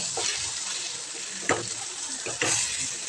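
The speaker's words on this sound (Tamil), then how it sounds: "தேவையான அளவு கொஞ்சம் லைட்டாக தண்ணி ஊற்றி" Water poured into a hot pan of brinjal curry with ground spice powder sizzles and hisses, with a few sharp splashes and bursts of frying noise.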